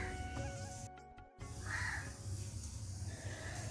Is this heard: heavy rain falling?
no